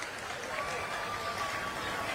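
A political rally crowd applauds with dense, steady clapping, a continuous wash of hands from a large audience with faint voices mixed in.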